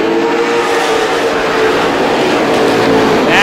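Outlaw-class race cars roaring past on the Star Speedway oval during a feature race, a loud continuous engine drone that swells as the pack passes close, with crowd and track noise underneath.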